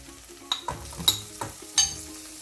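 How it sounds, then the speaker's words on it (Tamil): Dried anchovies are stirred into a pan with drumsticks for a Tamil fish curry. Soft scraping stirs and light clinks come in an irregular rhythm over a faint, steady sizzle, with no voices. "அதோட கருவாட்டை போடுவோம்."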